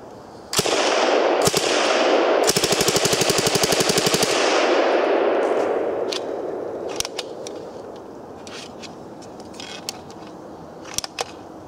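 A VZ-26 submachine gun fires Chinese or Yugoslav 7.62x25 rounds outdoors as one fast, loud burst lasting a few seconds. The burst follows two single cracks and is followed by echoing decay and scattered clinks of casings.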